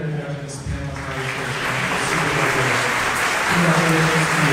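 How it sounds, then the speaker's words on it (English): An outdoor university audience applauds in a dense, sustained wash of clapping, with a voice talking over it at the start. "How about one more round of applause"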